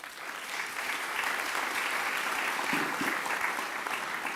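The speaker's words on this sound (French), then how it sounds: "On peut vous applaudir." Audience applause at a conference session on individual solar self-consumption, swelling quickly into a full, even roar of clapping that holds steady before easing slightly at the end.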